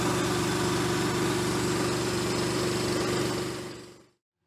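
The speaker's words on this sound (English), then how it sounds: "air compressor's warmed up, charged up" An air compressor on an Alaskan homestead, warmed up and charging its tank, runs with a steady, close, rumbling hum for about four seconds before cutting off abruptly into silence.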